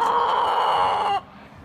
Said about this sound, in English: Here's Coffee, the famous YouTube chicken.